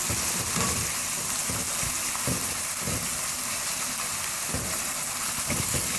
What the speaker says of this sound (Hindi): जिंजर गार्लिक पेस्ट को हम फ्राई करेंगे प्याजों के साथ